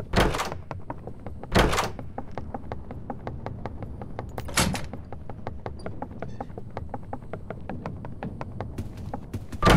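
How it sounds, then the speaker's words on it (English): A door opening in the Roblox horror game Doors, with a few sharp, loud transients standing out over a steady run of rapid, evenly spaced clicks and low game rumble. "Opening the door."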